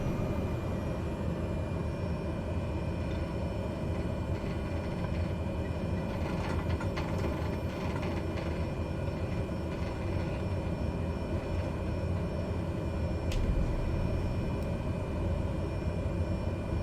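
A Cessna 208 Grand Caravan in a flight simulator taxis along the runway, its turboprop engine giving a steady, even drone at constant loudness throughout, with no talking.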